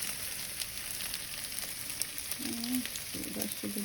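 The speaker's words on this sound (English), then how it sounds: "Keep stirring, so you want the eggs cooked very well." Eggs sizzling in a pan with garlic salt while being stirred, a quiet, steady frying hiss with a few soft scraping strokes near the end.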